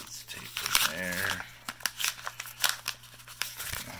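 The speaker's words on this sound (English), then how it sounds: "let's tape it there" Tape being pulled and pressed onto a plain white mailing envelope, with crinkling paper and short ripping sounds close by while someone talks.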